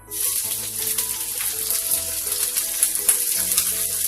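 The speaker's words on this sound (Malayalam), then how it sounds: "ഇനി നമുക്കിതിലേക്ക് ചെറുതായി അരിഞ്ഞു വെച്ച ഇഞ്ചി, വെളുത്തുള്ളി, പച്ചമുളക് ഇട്ട് കൊടുക്കാം." Chopped ginger, garlic and green chilli hit hot oil in a frying pan, producing a loud, continuous close sizzle with a faint crackle throughout and no talking.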